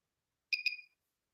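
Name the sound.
microcurrent device beep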